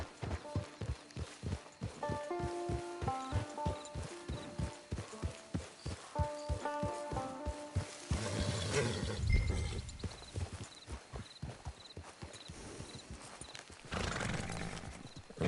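Horse hooves clip-clop in a steady, close rhythm in Red Dead Redemption II, then a loud neigh and snorting break in near the middle, with hoofbeats picking up again at the end.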